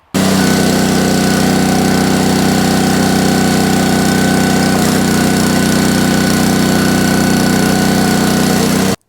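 Split Fire 2265 log splitter engine running through a split cycle, giving a loud, steady mid-pitched drone that holds constant from start to finish with no pauses.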